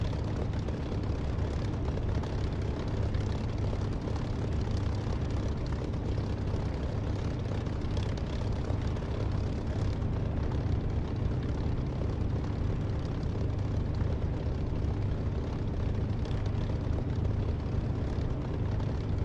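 A propeller aircraft engine runs steadily before takeoff in the DCS flight simulator, a loud, constant droning roar with a rich low rumble that holds unchanged throughout.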